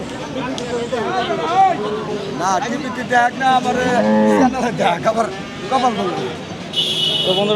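Cattle lowing amid the crowd at Bayra cattle market in Manikganj, with deep moos rising through a steady babble of voices as people talk nearby.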